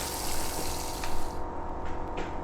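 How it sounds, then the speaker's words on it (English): Water from a faucet runs steadily into a sink in a horror video game, a continuous close hiss that rises and falls slightly, with a few faint clicks over it. "Water begins running into the sink."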